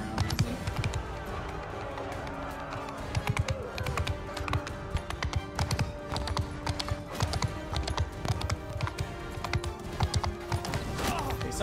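Horse hooves gallop in the medieval combat game Mount & Blade II: Bannerlord, a fast continuous clip-clop of several horses amid battle noise, loud and close throughout.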